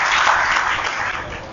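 Audience applause at a Sri Radhashtami devotional festival gathering in Faridabad, a dense, steady wash of many hands clapping that tapers off slightly toward the end, with no talk over it.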